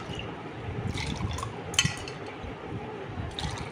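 Homemade watermelon juice mixed with sugar and salt pours into glasses, a close, continuous liquid splashing and trickling with a few light glass clinks.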